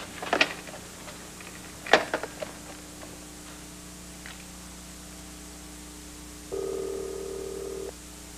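A telephone is dialed indoors: a few faint clicks and taps precede a steady tone held for over a second, quiet against a low background hum.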